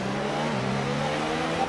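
An F1 car engine idles and burbles steadily on the formation lap in F1 2019, running as a continuous close, loud drone with a slight shift in pitch partway through and nobody talking.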